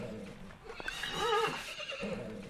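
A horse in the Story of Seasons farming game gives a short whinny with a rising, wavering pitch. It stands out clearly against soft background game music and follows a brief thud.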